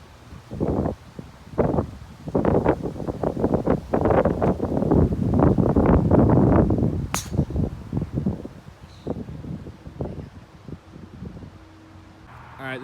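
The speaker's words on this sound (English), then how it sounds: "Still pretty windy" Gusty wind buffets the microphone on an open golf course, coming in repeated heavy rumbling bursts that swell loudest in the middle and ease off toward the end, close and rough.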